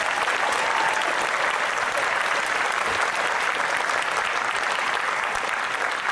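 Sustained applause for graduates from a sizeable audience at an alumni reunion banquet, steady and even throughout, with no voices standing out.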